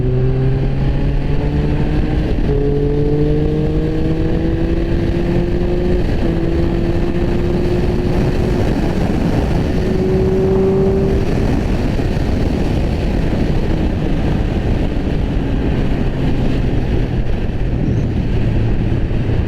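Heavy, constant wind roar buffets a rider's helmet at speed on a Triumph Speed Triple 1200RR, with the engine's rising and shifting drone audible underneath and no talking.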